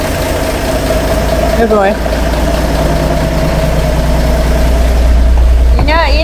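A 1958 Ford F100 pickup's freshly reinstalled engine idles with a loud, steady low rumble, close by, while someone briefly speaks over it.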